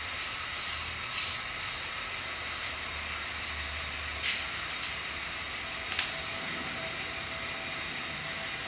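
An HO scale model train on a layout runs steadily with a continuous low mechanical whir and rumble, with no voices.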